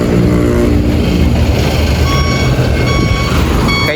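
Hino RM280 coach bus reversing into a parking spot at night, its loud, steady, repeated reversing beeper sounding over a continuous low engine rumble nearby.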